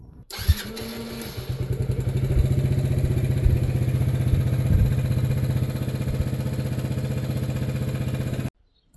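A Yamaha Raptor 80 ATV fitted with a new aftermarket carburetor starts and runs roughly nearby, a loud, steady small-engine drone with a faint clattery unevenness before it cuts off abruptly.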